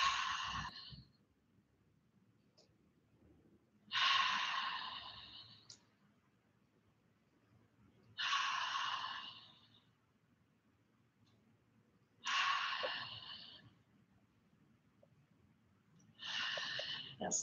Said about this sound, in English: Deep breaths in.